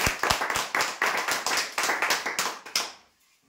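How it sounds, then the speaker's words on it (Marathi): A crowd claps steadily for winners at a lottery prize draw, a dense burst of hand-clapping lasting about three seconds before cutting off into near silence. "जोरदार टाळ्या होऊ द्या यासाठी"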